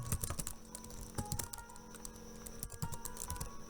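Typing on a computer keyboard, quick close key clicks in uneven bursts, steady and fairly quiet, with no talk.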